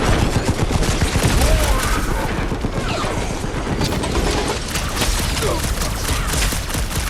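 Dense, loud bursts of rapid gunfire and blasts in a Guardians of the Galaxy battle, overlapping shots in a constant barrage, with a voice briefly audible under the shooting.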